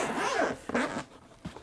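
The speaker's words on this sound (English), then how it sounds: "we're going to unzip the branded zipper thingies" A zipper drawn open on the fabric case of a heated massage gun, two long rasping pulls followed by a few short zips, close and clear with no talk.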